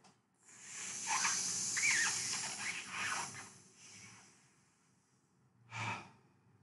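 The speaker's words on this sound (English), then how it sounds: "roll your tongue and take a deep breath inside like this" A long, airy inhalation drawn through a rolled tongue during Sitali pranayama breathing, a steady hiss lasting several seconds, followed by a short, softer exhale.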